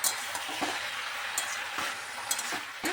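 Mixed vegetables, including katoya stems, ridge gourd and tomato, sizzle steadily in a pan while a spoon scrapes and stirs them at intervals, close and continuous with no talking.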